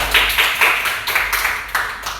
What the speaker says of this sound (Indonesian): tepuk tangan untuk Naima